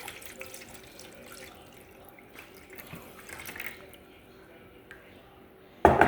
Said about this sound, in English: So here is the green Jell-O. We are going to pour it into this pan.